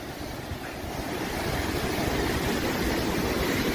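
The San Joaquin River rushing below a bridge along the Pacific Crest Trail near Muir Pass, a loud steady roar of flowing water with some wind buffeting.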